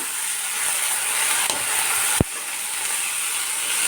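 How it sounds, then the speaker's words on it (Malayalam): Banana flower tipped into a hot pan in a Kerala kitchen and stirred, with a continuous bright sizzle and hiss and a sharp scrape or clack of the spoon against the pan partway through. "കഴുകി വാല വെച്ചിരിക്കുന്ന വാഴക്കൂമ്പ് വാഴക്കൂമ്പ് അല്ലെങ്കിൽ വാഴക്കുടപ്പൻ അത് ഞാൻ ഇതിലേക്ക് ഇട്ട് കൊടുക്കുകയാണ്"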